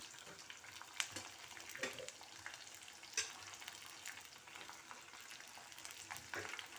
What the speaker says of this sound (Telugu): ఇప్పుడు వెల్లుల్లి బాగా వేగాలి, లేకపోతే పచ్చిగా ఉంటుంది కదా.